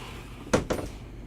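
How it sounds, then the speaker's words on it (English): A pocket door inside a 2023 Renegade Verona 36VSB RV slides shut with two quick, soft knocks close by in an otherwise quiet room. "You got the pocket door to close this room off."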